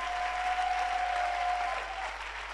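A church congregation breaks into steady applause during a French-language service, a dense wash of clapping hands that holds evenly and then eases off slightly toward the end, with no talk over it.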